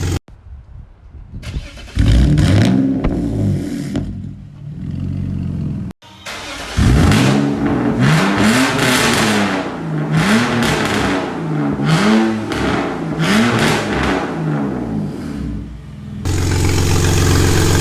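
A BMW E46 engine with longtube headers and an exhaust header leak revs repeatedly in loud, rising surges with a raspy, ticking exhaust edge, pausing briefly between bursts and idling roughly at the end.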